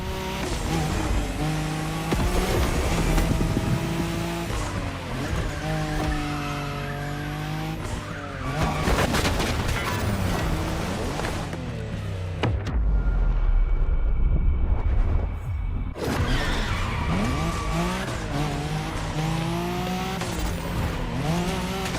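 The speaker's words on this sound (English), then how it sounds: "When you manage to drift this bulky bodywork, it's just magic." In the racing game The Crew Motorfest, a bulky car drifts with long wailing tire squeals over a loud revving engine, the screech bending in pitch, briefly dropping out for a deep rumble, then resuming.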